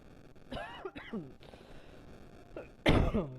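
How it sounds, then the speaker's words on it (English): A few coughs and throat sounds close to the mic, with quiet gaps between them and a sharper, louder burst near the end. "Oh yeah, I'm getting a little coughing right now."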